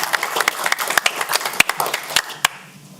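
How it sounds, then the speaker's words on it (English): Applause at a county council meeting: a small group claps in a loose, sharp patter of individual hand claps for about three seconds, tapering off at the end. "Ms. Adams, will you stand up and we can give you applause?"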